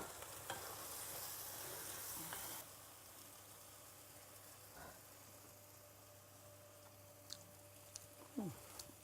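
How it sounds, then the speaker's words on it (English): Black-eyed beans are stirred into a simmering sauce in a pan, with a soft sizzle and scraping spoon strokes over steady background noise. A few brief clinks come near the end. "And just stir it for about 2-3 minutes"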